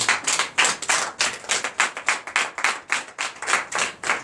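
A church congregation at a Sunday service in Comè, Benin claps in a steady, quick rhythm, many hands striking together in a sustained run of beats.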